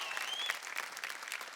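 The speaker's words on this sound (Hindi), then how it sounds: "जोरदार तालियां सर के लिए।" Audience applause at a televised streaming awards show: a steady burst of clapping from the crowd, bright and dense throughout with no pauses.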